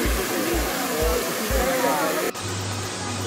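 Sajikot waterfall near Havelian, Abbottabad, with water pouring in a loud, steady broadband rush, close and constant, while low thumping pulses and later a droning hum sit under the flow.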